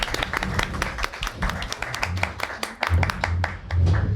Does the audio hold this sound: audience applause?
yes